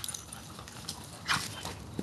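A dog gives a brief, soft happy whimper during play, faint and high-pitched against a quiet background, with a slightly louder squeak near the end.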